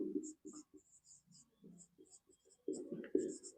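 Chalk or marker writes a math solution on a board in short, quiet strokes and taps, some rhythmic and some scratchy, between stretches of someone speaking softly close by.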